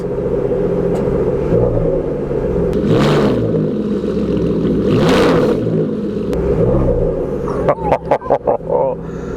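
Aston Martin 5.9 litre V12 firing up: a deep rumbling idle with two swelling revs, then a quick series of sharp clicks near the end, close and loud.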